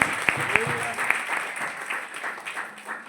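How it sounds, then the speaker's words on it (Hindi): Worship congregation clapping at a Hindi church sermon, a loud burst of applause with a few sharp claps standing out, under a hum of crowd noise and faint voices. "तो प्रभु का जोरदार तालियां हो जाए"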